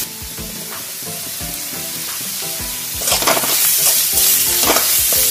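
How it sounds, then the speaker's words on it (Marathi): Batata vada potato filling being stirred in a hot pan, a steady sizzle with soft rhythmic scraping that grows louder and busier partway through. "छान हलवून घेऊया."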